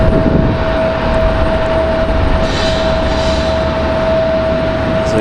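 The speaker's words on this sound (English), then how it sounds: "As we watch our A320 Neo here for Spirit Airlines get a move on." Spirit Airlines Airbus A320neo jet getting underway at Raleigh-Durham airport, a loud continuous engine roar with a sustained steady whine tone running through it and a brief rising hiss midway, no voices.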